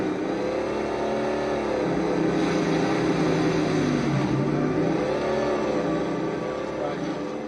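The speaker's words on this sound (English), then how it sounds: "you can hear the growl of the two-stroke. Then you got this really growly, 4-stroke, huge sounding exhaust." An in-game vehicle engine from Halo 3, blending a two-stroke growl with a deep four-stroke exhaust, revs loudly and continuously, its pitch rising and falling as it accelerates and eases off.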